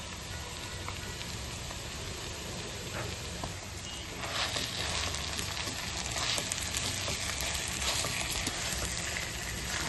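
Mashed potato fried with spices in a pan for Kolkata-style egg chop filling gives a steady, close, dense sizzle that runs unbroken throughout, with no talking.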